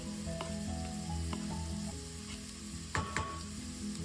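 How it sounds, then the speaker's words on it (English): Garlic sautés in a pan with corned beef and potatoes, giving a steady, close sizzle with a few spatula stirs and scrapes near the end and no speech. "We can now add our garlic over here."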